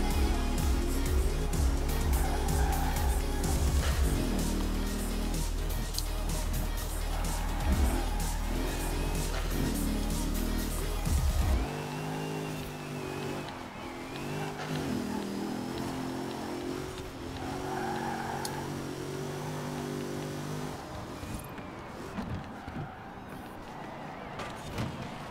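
A Honda NSX-R GT race car in a racing game drives with a steady, droning engine note that shifts in pitch as it revs and changes gear, continuous and fairly loud, with a heavy low rumble in the first half.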